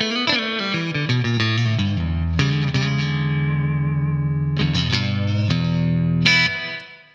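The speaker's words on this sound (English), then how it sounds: "Quite like the reverb on this." Electric guitar played through a Blackstar AMPED floorboard amp with reverb: picked notes and sustained chords ringing out with a wet, lingering tail, loud and up close.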